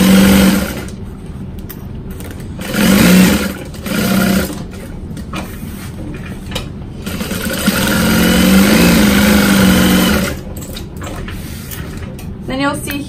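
A sewing machine stitches around the folded-over edge of duffel bag exterior fabric, its motor running in bursts and one longer steady run, loud and close, with pauses between.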